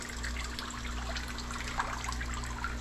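Water draining from an aquarium, a steady low trickle and gurgle under a constant hum of pump or motor noise, continuous and fairly quiet.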